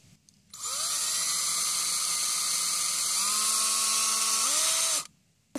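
A small drill turns a 1.5 millimeter bit, a loud high whine that starts abruptly, holds steady for several seconds with a slight pitch shift as it bites, then stops.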